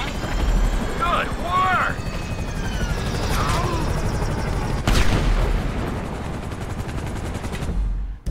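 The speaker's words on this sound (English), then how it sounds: "you might want to do something about the choppers before we're blown out of the sky" Helicopters and gunfire in the video game Grand Theft Auto 5: a loud, steady rotor roar with bursts of shooting and a sharp bang partway through, while voices talk over the action.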